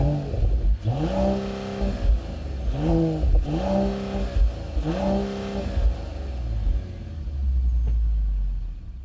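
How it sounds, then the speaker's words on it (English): A Mercedes-AMG CLE 53 inline-six with AMG sport exhaust gives five quick, close revs in a rhythmic series, each rising and falling, then settles into a low, rumbling idle. "You guys can hear how that inline 6 sounds."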